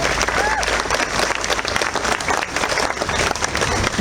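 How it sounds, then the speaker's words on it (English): An audience at the Adirondack Trust 100-year time capsule event applauds the stonemasons, loud continuous clapping from a crowd with voices mixed in beneath it. "So I'd like to give my round of applause to any of the masons."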